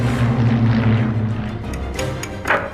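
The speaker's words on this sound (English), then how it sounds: "German bombers, especially the Heinkels, they made a very distinctive noise." A German Heinkel bomber's engines drone in a steady, loud, low hum with a throbbing tone that thins out toward the end. No voices are heard.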